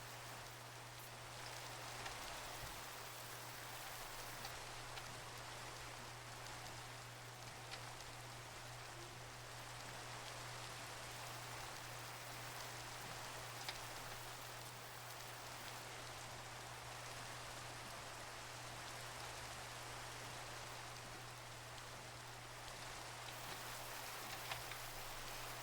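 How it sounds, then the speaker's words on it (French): Steady rain falls outdoors in a continuous even hiss with no pauses, moderately loud and unbroken, over a faint constant low hum. "il pleut."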